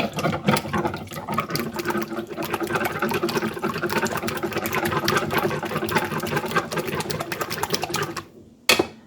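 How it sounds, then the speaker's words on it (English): Eggs being whisked in a bowl for a cheddar chicken pie, a dense, continuous rapid clatter of the whisk against the bowl, fairly loud and steady, ending abruptly with a brief sharp knock. "I'm going to whisk those up."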